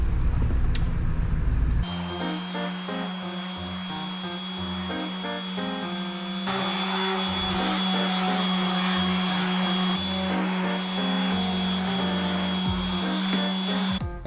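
A converted camper van's engine idling just after starting, a steady droning hum with a constant whine, loud and close, running alone without speech.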